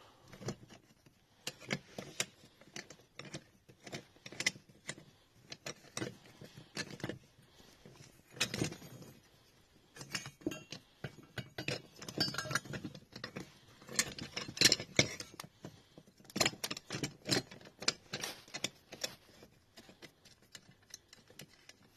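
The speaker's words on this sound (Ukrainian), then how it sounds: "Тут ми відкручуємо болт." A bolt being unscrewed on the clutch pedal assembly of a Renault Trafic, heard as faint, rapid metallic ratchet clicks and ticks in irregular bursts, close and quiet throughout.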